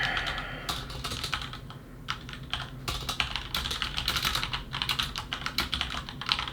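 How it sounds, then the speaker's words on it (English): Typing on a computer keyboard, a close, continuous patter of quick key clicks with brief pauses, heard alone without any talk. "I'm typing something out."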